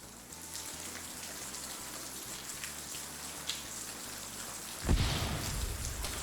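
Steady rain hisses and patters across a video game battlefield, with a low rhythmic pulse beneath and a sudden heavier burst of rain noise near the end.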